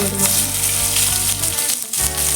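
Onion fries in coconut oil in a pan for Mangalore-style kadle sukka, a loud continuous sizzle over a steady low hum.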